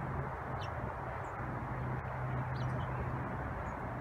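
Faint, scattered bird chirps sound near bird feeders over steady outdoor background noise, a few short calls spaced irregularly.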